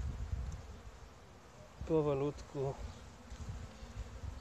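Honeybees hum softly around an opened hive during an early-spring colony inspection, with a low continuous buzz under someone speaking quietly in Polish.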